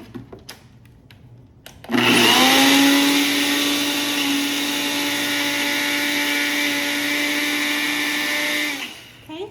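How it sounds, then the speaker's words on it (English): A Ninja blender whirs loudly and steadily while blending cottage cheese, starting abruptly after a quiet moment, holding a constant high motor drone for about seven seconds, then spinning down. "I'm just going to blend it up just to make it a more creamier consistency"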